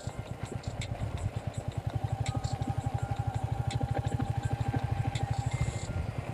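A motorcycle idling at a parking area near a temple on a return trip from Digha, its engine thudding in an even, rapid, steady pulse close by, with light clatter over it.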